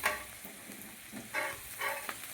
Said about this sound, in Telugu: ఉల్లిపాయలు పచ్చిమిర్చి బాగా వేగే వరకు ఇలా మనం వేయించాలి